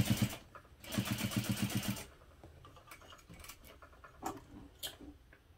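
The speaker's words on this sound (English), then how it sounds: "now I'm going to top stitch along each of the seams through the card slot sides" A sewing machine top stitches seams on a hip pouch with a long stitch length, in two short rapid bursts of stitching up close, followed by quieter clicks and handling sounds.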